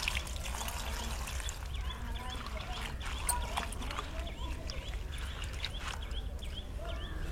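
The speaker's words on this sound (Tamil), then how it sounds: "அம்மா ஓ அலச ஆரம்பிச்சிட்ட பார்க்கம்மா." Fresh guava leaves being rinsed by hand in water, a steady close trickling and splashing with small drips and swishes continuing throughout at low volume.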